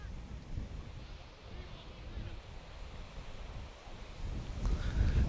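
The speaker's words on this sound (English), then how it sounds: "conditions are extremely windy here in Bennett's Bridge today" Steady roaring wind buffets the microphone throughout at Bennett's Bridge, with broadband rumble that swells louder toward the end; faint voices may sit beneath the gusts.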